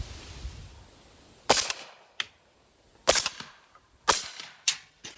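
Several sharp rifle shots of supersonic ammunition fired through a CMMG Zeroed 30 suppressor, each a loud crack with a short decaying tail, spaced irregularly across a few seconds outdoors.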